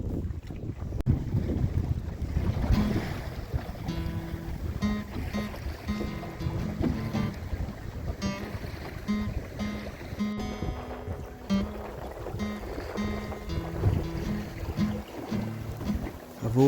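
A sailing dinghy moves over the water off Waiheke Island, with continuous wind buffeting the microphone and water rushing and slapping against the hull, plus intermittent tonal creaks and hums, heard up close throughout.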